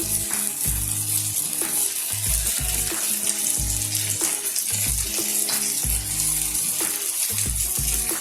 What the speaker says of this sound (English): we're going to put it back into the fryer